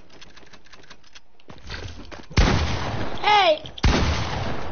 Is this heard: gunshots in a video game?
yes